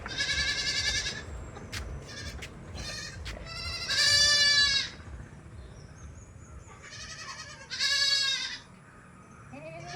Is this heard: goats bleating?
yes